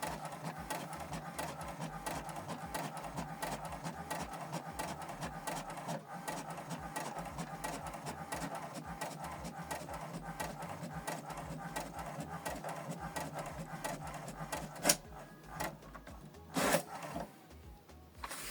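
An HP Deskjet inkjet printer runs through a print job with a fast, steady, rhythmic mechanical whirring and shuttling. It is quiet and close, with a few louder clunks near the end as the page finishes.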